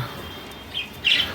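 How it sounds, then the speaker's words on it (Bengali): Two short, bright cockatiel chirps, the second louder, over a quiet room background. "ককটেল পাখি তো ওই যে বসে আছে"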